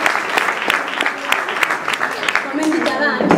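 An audience claps at the end of a staged reading of the comic Catalan play El testament d'en Nasi. The applause is steady and fairly close, with a voice talking over it.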